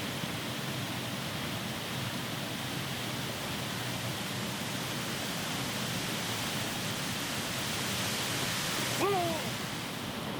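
Proxy Falls, a waterfall swollen with winter snowmelt and rain runoff, roars as a steady, dense broadband rush that holds even throughout, with a brief faint chirp near the end.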